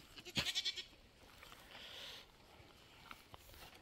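A goat gives one short, wavering bleat early on, fairly faint against a quiet outdoor background with a few soft rustles, on a hillside with thorny scrub in a village.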